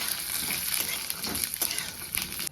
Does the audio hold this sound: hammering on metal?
no